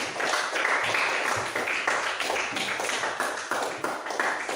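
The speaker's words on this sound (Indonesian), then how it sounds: "Oke, tepuk tangan buat kelompok 3." Classroom applause for a student group, a steady dense patter of many hands clapping at close range throughout, without speech.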